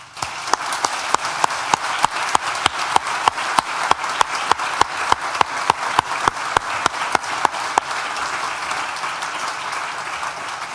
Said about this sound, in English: please join me once again for a big collective round of applause.